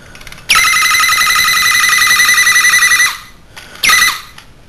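A Transformers G1 Galvatron toy plays a loud electronic warbling tone for about two and a half seconds, then a short repeat after a brief gap, with no talking.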